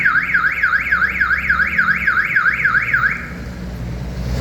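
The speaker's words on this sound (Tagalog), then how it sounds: "pag nadinig mo yung alarm niya, yung siren, tapos nagbi-blink siya, yun yung L300 mo" Locator alarm siren of a Mitsubishi L300 van sweeps up and down in a rapid, loud warble for about three seconds, then cuts off, with no talk over it.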